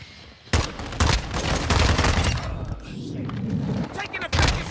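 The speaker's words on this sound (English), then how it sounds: "Taking effective fire!" Gunfire in a Modern Warfare 2 match: several loud, close bursts of automatic shots with booming impacts, separated by brief lulls and mixed with faint voices.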